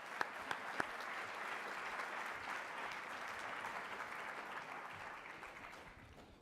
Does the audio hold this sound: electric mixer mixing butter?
no